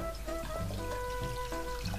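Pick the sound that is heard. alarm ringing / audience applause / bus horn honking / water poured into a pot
water poured into a pot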